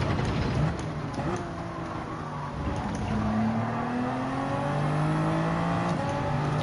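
Race car engine in Gran Turismo 7 during a race, a continuous loud engine drone with rising pitch as it accelerates through the gears while slipstreaming behind another car.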